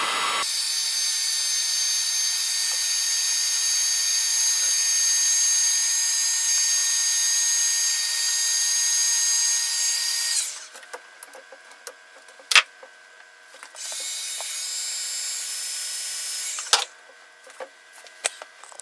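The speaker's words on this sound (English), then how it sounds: "so I've got my heat gun right here. Just going to heat that up." A heat gun runs with a steady loud whooshing roar for about ten seconds while warming a part for an arcade stick console build, then cuts off, leaving a few sharp clicks and a brief second burst of airflow.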